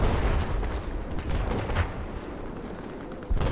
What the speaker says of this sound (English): Looks like there's some gunfire over here.